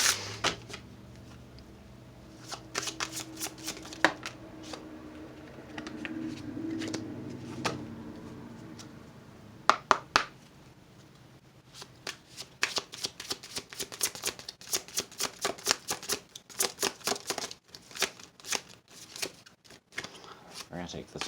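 A deck of Wild Elemental Oracle cards is shuffled by hand, giving soft riffling and scattered taps that build into quick flurries of card slaps later on, close and fairly quiet, with a voice talking at times.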